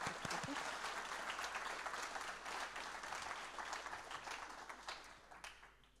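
Audience applause at the keynote of a developer conference, DevFest Nantes: a dense wash of clapping that is fairly faint and distant and fades gradually over several seconds.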